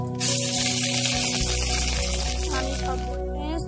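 Fish roe fritters mixed with ginger-garlic paste and chopped onion fry in hot oil, with leftover water making them spit. A loud, steady, close sizzle hisses throughout, and no one speaks.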